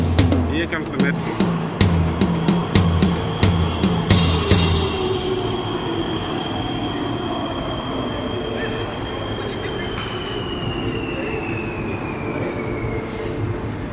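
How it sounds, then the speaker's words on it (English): A Prague Metro red line train pulls into a station. A rhythmic clatter of wheels over rail joints gives way to a long, high, steady squeal and hum as it slows, loud and near. "Here comes the metro."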